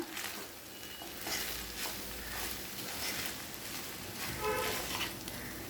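Mushroom fried rice is stirred and tossed in a pan, with soft sizzling and repeated scraping strokes of a spatula at a low, close level.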